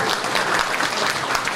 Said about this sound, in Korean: 큰 박수를 보내주시기 바랍니다.